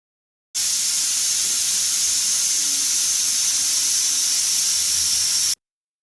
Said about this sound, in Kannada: ಒಂದು ವಿಜಲ್ ಕೂಡ ಆಯ್ತು